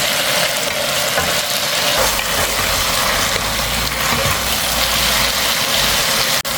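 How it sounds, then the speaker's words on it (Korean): Eggplant with green and red chili peppers stir-fries in a pan, a steady close sizzle with stirring clatter over a low rumbling hum, ending with a brief dip near the close. "고추도 뻣뻣한 게 없어지도록 살짝 볶아야 맛있어요"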